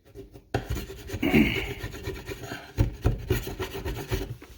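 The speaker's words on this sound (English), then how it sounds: "we're going to use this putty knife and scrape up a lot of this flake and get it flat" A putty knife scrapes loose flakes off a particle board cabinet door in short rasping strokes, close and fairly loud, with a few sharper scratchy bursts after a quiet start.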